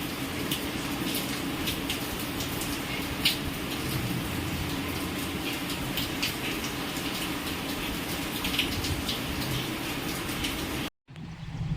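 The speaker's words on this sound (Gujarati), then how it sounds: "વરસાદની ધબાધબી બોલે હો ભાઈ" Heavy monsoon rain pours down in strong wind in Porbandar, with water rushing past a house, making a steady, dense, close roar with no voices.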